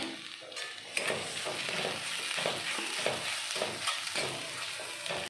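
Crushed ginger, garlic and green chilli being stirred in a hot pan, a steady soft sizzle with scraping stirs throughout, close and moderately quiet, no talk.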